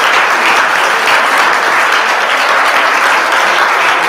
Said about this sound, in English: If we could give a round of applause to all of our presenters and all of the volunteers